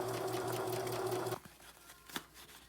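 A sewing machine stitches fabric for a camera case in a steady whirring run that stops about halfway through, leaving quiet handling noise and a faint click.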